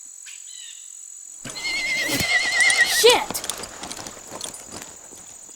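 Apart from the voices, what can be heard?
horse neighing and hooves after spooking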